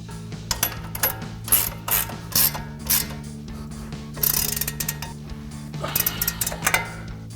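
Wrench working the upper ball joint nut on a RAM 1500 front suspension, with a pry bar levering against it: a run of rapid ratcheting clicks and metallic clinks over a low steady machine hum.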